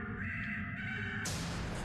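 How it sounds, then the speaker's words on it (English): A giant bird creature in the Bioshock Infinite video game gives a loud, harsh caw, close and sustained, over a steady game backdrop. "It's a giant bird thing."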